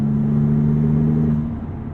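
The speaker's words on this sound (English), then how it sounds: "in the meat of the power band, you get some wonderful turbocharger induction noise" A 2022 Maserati MC20 pulls hard through its mid-range, a loud steady engine drone with a strong hum and turbocharger induction whoosh, easing slightly near the end.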